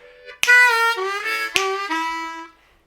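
Close and clear with no voice over it, an A harmonica plays a short blues phrase: a handful of held, bending reed notes with sharp breathy onsets, fading out at the end.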